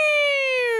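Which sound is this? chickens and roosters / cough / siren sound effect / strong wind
siren sound effect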